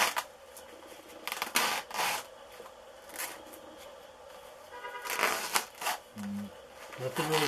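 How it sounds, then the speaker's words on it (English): Peel ply fabric being pulled hard off a vacuum-bagged composite layup for a model P-47 baffle, giving scattered rasping, rubbing tears in short bursts, close and fairly quiet, with someone talking over it. "Nothing really sticks to this either, but you gotta pull pretty hard to get it to come loose."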